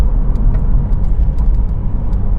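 Porsche 911 Turbo S with a rear engine and 5-speed transmission accelerating under boost, a loud, steady deep engine roar heard from inside the car, with no talk over it.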